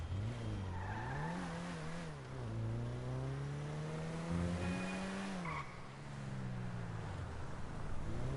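A car engine in GTA V revs and shifts pitch up and down, with brief tire squeal, rising and falling steadily and close, with no talking.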